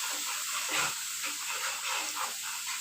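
Onion paste fries in the oil left from frying hilsa fish, with turmeric and chili powder added, giving a steady close sizzle and hiss that swells and eases slightly.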